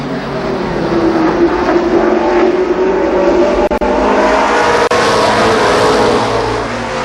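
ARCA Pro 4 race cars racing at Columbus Motor Speedway in 1993, a loud sustained engine roar as several cars run down the backstretch together, with steady droning pitch and no talking.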